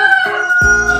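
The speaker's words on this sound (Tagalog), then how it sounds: "ay naku, manok to." A rooster crows nearby, a brief loud call cutting in sharply.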